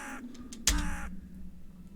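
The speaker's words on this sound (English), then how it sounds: "Hey, birds." Crows caw in the Tiny Bunny video game, a single loud harsh call standing out sharply over a quiet background before fading.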